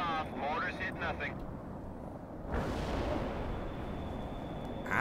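A-10 tank buster air strike in the World in Conflict war game: dense roaring rumble of cannon fire and explosions, with a sudden burst of louder blast noise midway and a steady high whine, under a faint voice.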